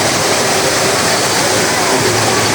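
A loud, constant roar of water pouring down, close and unbroken, like a waterfall crashing nearby.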